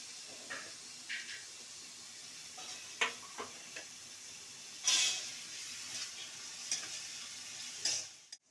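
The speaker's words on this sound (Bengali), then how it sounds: "আমি এবার পেঁয়াজটা দিচ্ছি ভাজতে।" Onion dropped into hot oil in a wok, a bright sizzling hiss rising in bursts with scattered ticks and clinks of stirring, fairly close and with no talking.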